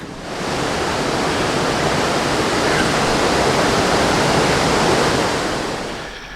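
Water rushing over rocks in a forest creek in the Citico Creek Wilderness, a dense steady roar close by that fades in and out, with no voices.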